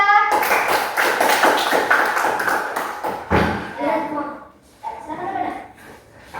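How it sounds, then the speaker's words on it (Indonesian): Students in a classroom clap for a presenting group, a run of quick, fairly even claps for about three seconds that trails off into scattered taps as voices start talking. "tepuk tangan untuk kelompok 3"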